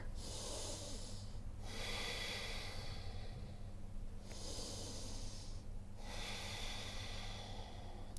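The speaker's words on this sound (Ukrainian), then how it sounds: "Вдих, видих." Slow, audible breathing during a home yoga session, with long broadband inhales and exhales separated by brief pauses, close to the microphone over a steady low hum and without talk.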